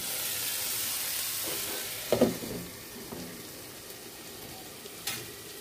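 Spices crackling in hot oil for a raw pumpkin dish, including panch phoron, dried red chilli, asafoetida, ginger and green chilli; a steady close sizzle with a few sharper pops and spits, no voices.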